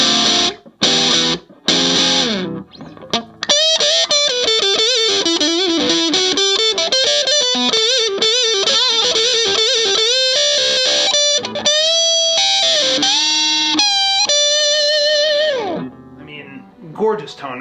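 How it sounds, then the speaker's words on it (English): Loud, heavily distorted electric guitar playing sustained notes and melodic runs, saturated and buzzing, close and alone with brief pauses near the start. "this distortion I have on is fairly, it's a pretty hot pedal"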